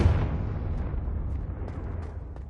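A Confringo explosive spell goes off in Hogwarts Legacy: one loud, close blast at the start that trails into a long, fading rumble with faint scattered crackles.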